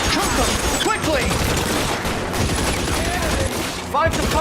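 Gunfire in the video game L.A. Noire, a dense fusillade of rapid shots in a firefight near gasoline barrels at an elephant column, loud and continuous with sharp bursts, under game speech.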